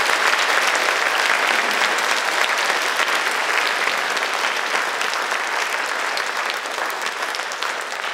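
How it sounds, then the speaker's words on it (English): Loud, dense applause fills an elementary school fine arts awards assembly as the audience claps for participating students, a continuous close wash of hands that stays strong and only eases slightly near the end. "Let's give them all a round of applause for participating."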